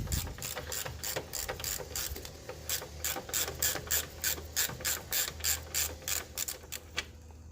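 A ratchet works a 14 mm bolt on a 1993 Nissan 300ZX Z32 convertible, giving a steady run of sharp clicking strokes in quick regular rhythm, close up and without talk.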